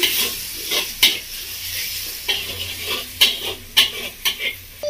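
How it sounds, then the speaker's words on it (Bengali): Spice masala with cumin powder, Kashmiri chilli powder and turmeric sizzles in a pan as a spoon stirs and scrapes it, with bursts of frying hiss and intermittent metallic clinks against the pan. "খুব ভালো করে মশলাটা কষিয়ে নেব।"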